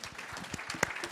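A conference audience at the Ghana-Canada Investment Summit gives a brief round of applause. A few scattered, fairly faint claps are heard rather than a full ovation, with a couple of sharper hand claps near the end.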